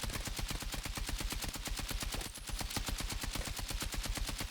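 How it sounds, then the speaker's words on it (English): KTS shotgun firing in Battlefield 6 while the player moves: rapid, evenly spaced rounds form a dense, continuous volley, with a brief dip in the middle before shooting resumes. "Now I'm going to show you how it does while actually moving and shooting"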